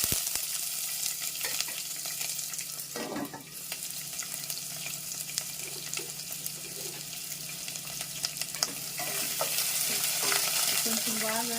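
Chopped onions frying in oil with mustard seeds and curry leaves for sambar, a steady close hiss and sizzle with occasional stirring scrapes and rattles.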